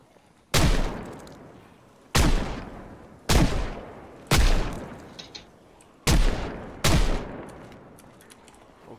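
Six loud, sharp gunshots from a shotgun in the zombie survival game Project Zomboid, spaced about a second or more apart, each cracking and decaying quickly.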